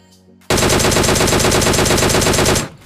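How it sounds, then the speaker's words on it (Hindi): Sustained automatic gunfire in a battle royale video game, a rapid, loud unbroken burst lasting about two seconds with no voices over it, then cutting off sharply. "यहाँ पे अभी फायरिंग की आवाज़ आ रही थी गाइस सी बिल्डिंग की तरफ से"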